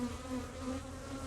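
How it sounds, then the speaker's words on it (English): A few worker bees inside a queen cage during hive re-queening buzz steadily and close up, a soft continuous drone with no other sound. "There's just a couple of little worker bees in there."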